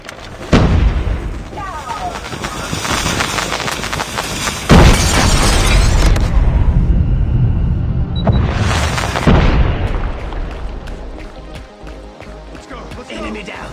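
Explosions in Call of Duty Mobile, a sharp near blast and another heavy boom, each trailing into rumbling debris, under game voice chatter.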